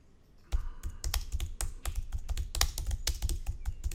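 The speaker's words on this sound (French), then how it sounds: "enfoncer la touche Entrée sur le clavier, taper un titre" Someone typing a title on a computer keyboard, a rapid, irregular series of close, crisp key clicks that starts abruptly after a brief quiet moment and continues steadily, with no talk.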